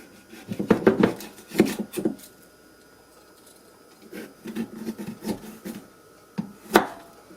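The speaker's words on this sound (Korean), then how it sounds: "당근이랑 양파는 채 썰어줍니다." A knife julienning carrot and onion on a cutting board: uneven bursts of quick, close chopping taps with pauses between runs.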